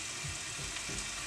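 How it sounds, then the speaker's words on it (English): Chorizo fries in a hot pan, giving a dense, steady hiss of sizzling fat with faint pops. It is close and continuous, with no talking. "let's go back over here to the chorizo. So now you can hear this is sizzling."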